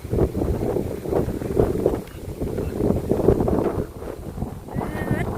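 Strong wind gusting across an open outdoor site where workers run electric power lines to a house, buffeting loudly and continuously with rushing noise throughout, while someone talks over it.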